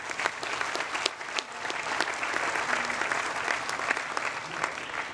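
A crowd applauding steadily at Harvard University's 2015 commencement afternoon exercises, dense clapping with scattered sharper claps, continuous throughout.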